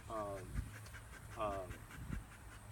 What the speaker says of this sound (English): The Holden bark, he comes in initially. He's very clean. He's strong and dominant, shows a lot of character